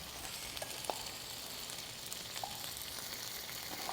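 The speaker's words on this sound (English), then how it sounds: "now I'm gonna add the cashews into the pan because they're all softened now" Cashews tipped into a hot pan for spicy butter chicken, giving a steady close hiss of frying with a few faint clicks and stirring scrapes, no voices.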